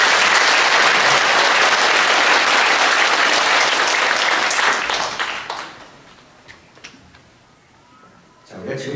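A church congregation at a New Year's Day Sunday service claps for its choir in a dense, loud burst lasting about five seconds, then trails off into scattered claps and quiet.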